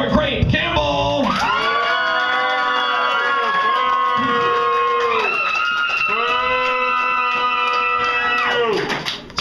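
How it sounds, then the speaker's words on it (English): A crowd at a comedy roast-off contest cheers, whoops and applauds for a contestant, with loud sustained voices rising and falling across the clip, a drawn-out bellowing whoop that sounds almost like mooing, and a surge of noise near the end. "Just applaud for the one that you want to win"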